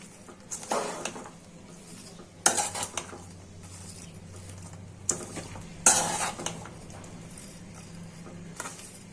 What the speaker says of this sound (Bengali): এখন নেড়ে চেড়ে ভেজে নিব।